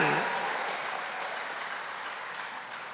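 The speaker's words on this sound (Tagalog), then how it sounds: "ating Pangulong Bongbong Marcos, pumalakpak na may pagpapasalamat ng malakas, na may sigawan, may hiyawan" Crowd applause and cheering at a presidential aid distribution event for farmers, fisherfolk and families, a broad steady wash of clapping that slowly fades over a few seconds.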